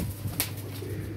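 A champion breeder pigeon gives a brief coo close by, set against a steady low hum and a short bright chirp, with no talking.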